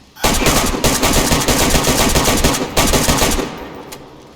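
Rapid automatic gunfire in the zombie survival game DayZ: a loud, dense burst of shots lasting about three seconds, a brief gap, another short burst, then it stops.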